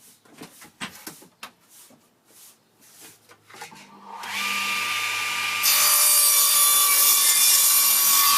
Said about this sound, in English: I need to trim all these boards square.